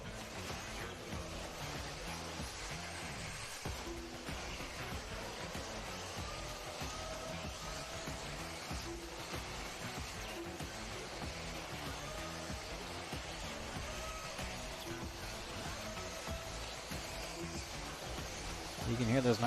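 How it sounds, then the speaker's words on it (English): Nitro-powered RC race cars fired up at a dirt track race meeting, a constant buzzing engine drone holding steady at moderate level in the background, with a commentator talking over it. "You can hear those nitro cars getting fired up"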